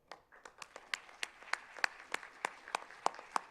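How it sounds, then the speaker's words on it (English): Applause from an audience in an auditorium at a national HR conference award presentation: a run of sharp, evenly spaced claps, fairly loud and close, with no speech over them. "Big round of applause for him."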